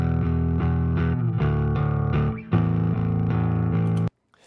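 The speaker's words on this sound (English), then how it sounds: "you can hear that distortion coming through more" Heavily distorted bass guitar power chords chug in a rhythmic pattern, loud and saturated, cutting off abruptly near the end.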